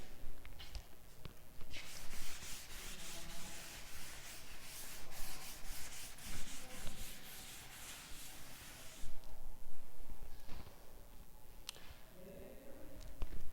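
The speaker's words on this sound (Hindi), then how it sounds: "इधर से मैं रब कर देती हूँ" Chalk writing being rubbed off a classroom board, a steady scratchy swishing of rapid back-and-forth strokes, close and fairly loud, pausing briefly near the end before a few more rubs.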